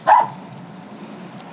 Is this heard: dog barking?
yes